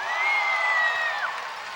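Basketball crowd cheering at an NBL Canada game between the Halifax Hurricanes and Island Storm: a steady arena roar of voices and whoops with a sustained whistle-like tone held over it, loud and continuous throughout.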